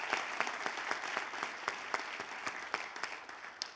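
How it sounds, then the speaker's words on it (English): Crowd applause at a Latino and immigrant Senate candidate forum in California, a fairly faint, even patter of many hands with distinct individual claps standing out, tapering slightly toward the end. "So give yourselves once more a big round of applause for coming from far and wide."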